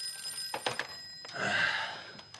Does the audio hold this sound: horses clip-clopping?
no